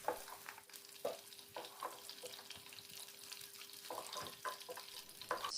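Capsicum and onion sauté in ghee in a pan for a chicken jalfrazi, a quiet continuous sizzle broken by repeated stirring scrapes and clinks, close and without talk.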